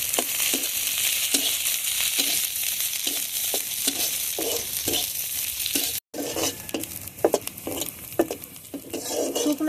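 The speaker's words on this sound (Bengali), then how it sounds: "পেঁয়াজ কুচিগুলো দেব এখন সব কিছু ভালোভাবে ভেজে নেব" Chopped onions, dried chilli and garlic fry in hot oil with a constant loud sizzle, punctuated by a regular series of scraping stirs of a utensil against the pan.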